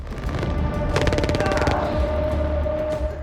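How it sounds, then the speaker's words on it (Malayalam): A short burst of rapid gunshots cracks out amid a dramatic film soundtrack, with a sustained tone ringing beneath. "വെടിയുതിർത്തു"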